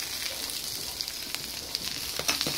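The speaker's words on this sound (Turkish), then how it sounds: "kokteylimiz orta kömüründe yavaş yavaş pişiyor" Meat kokteyl cooking slowly over medium charcoal, giving a soft, steady sizzle with occasional small crackles and pops, faint and close, with no talking.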